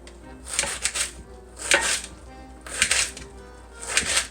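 A knife chops through rolled-up collard greens on a cutting board in four separate bursts of quick, crisp cuts with short pauses between them, close and clear.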